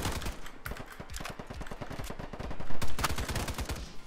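Rapid automatic gunfire from a G36C rifle in the shooter game Polygon, a dense, close burst of evenly spaced shots rattling on almost continuously for about four seconds with a brief swell in loudness near the end.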